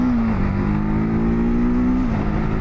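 A TVS Apache RTR 310 motorcycle engine drones loud and steady while riding, its tone holding even before dipping slightly in pitch near the end.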